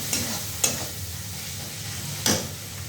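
Meat fries in oil and its own released juices in a pan, a low steady sizzle broken by three sharp spoon clinks or scrapes, close by and without speech.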